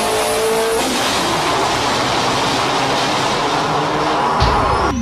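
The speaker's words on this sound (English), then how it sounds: "The first fail, if you ask me, is a front-wheel drive dragster." A loud, sustained engine roar from a front-wheel drive dragster at the drag strip, holding steady and close for several seconds before a sharp shift in pitch near the end.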